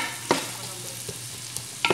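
Hotdogs fry in a pan with a soft, steady sizzle, broken by a few sharp clicks and scrapes of a utensil against the pan.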